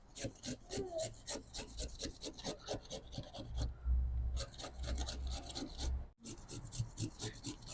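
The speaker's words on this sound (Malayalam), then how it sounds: "ഇതിങ്ങനെ കട്ട് ചെയ്തെടുക്കുന്നതാണ് ഈ ബീട്രൂട്ട് വൈൻ ഉണ്ടാക്കുന്നതിൻ്റെ ഏറ്റവും വലിയ പണി." Beetroot is cut by hand for homemade beetroot wine, giving a fast run of close, rhythmic rasping scrapes that pause briefly near the end and then resume, with faint voices in the background.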